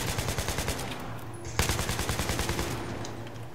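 An AK-74U fires in Battlefield 3 in rapid, rhythmic automatic bursts of sharp shots that run almost continuously, with one louder crack partway through. The gunfire is loud and close.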